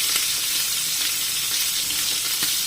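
Duck breast, magret de canard, frying in oil in a home kitchen in France, a steady, loud, hissing sizzle throughout with faint scattered pops and no talking.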